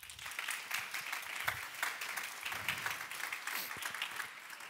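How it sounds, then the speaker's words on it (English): Audience at a conference panel discussion on measuring prosperity claps steadily for several seconds, a soft, even wash of applause heard from within the room. "Give them all a round of applause just to make them welcome."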